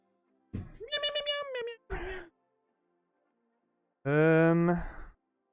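A few drawn-out, wavering cat meows, close and clear, with silence between them.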